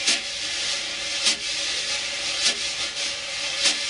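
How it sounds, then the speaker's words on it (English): A right-hand wire brush pattern on a drum head accents beats one and three by pressing more of the fan down for a darker tone. Continuous swishing is broken by periodic stronger strokes, close and alone. "Here's the right hand."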